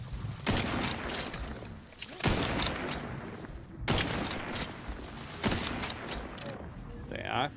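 A wrist-mounted weapon in The Outer Worlds 2 video game fires in loud, heavy bursts, roughly four sharp blasts spaced about a second and a half apart, each trailing into a rumbling decay, with voices faintly present.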